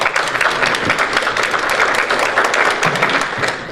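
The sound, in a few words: audience applause for the board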